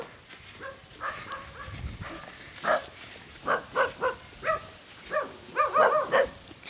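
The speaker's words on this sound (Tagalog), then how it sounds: "Kadaming aso dito guys, nakakatakot maglakad." Several dogs bark repeatedly in short bursts, moderately near, with a steady irregular rhythm over outdoor background noise in a rural Philippine village.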